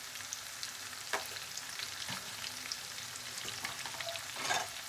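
Onions with bitter gourd fry in a pan, a faint, even sizzle with a few soft stirring scrapes close by.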